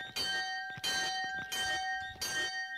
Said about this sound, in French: Cette cloche était probablement ici déjà à l'époque de Balzac